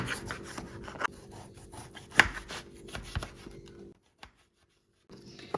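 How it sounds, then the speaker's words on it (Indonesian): A knife slices limes thinly on a cutting board: close, repeated cutting and scraping strokes with a sharper knock midway, then a short silence and a few more cuts. "Kemudian untuk jeruk nipisnya ini aku pakai 2 buah dulu, yang aku potong-potong seperti ini."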